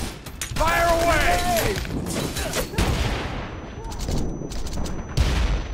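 Rapid bursts of gunfire and mechanical clatter from the action video game Wanted Dead, loud and close, mixed with excited talking over the shots.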